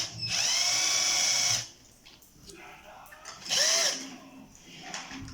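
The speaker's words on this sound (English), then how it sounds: "I use my electric drill for that because it's really soft aluminum" An electric drill with a 2 mm bit bores into soft aluminum for a WLtoys RC car, two loud whining bursts separated by a quieter gap of faint handling sounds, close up.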